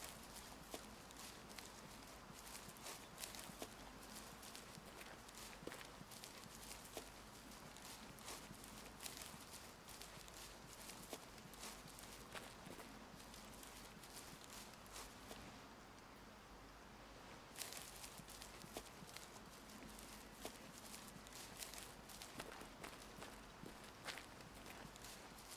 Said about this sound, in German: Ich höre Schritte und Geräusche an allen Ecken und Enden.